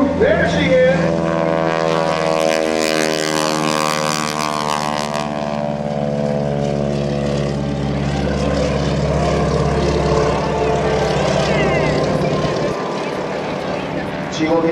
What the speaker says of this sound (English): Greg will shake out the airplane to make sure the engine is working fine, perfectly, before committing to aerobatics